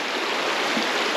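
Icy river water near a bridge in Orsigna, Italy, rushes past in a continuous, dense, close-up flow with no pauses and no talk.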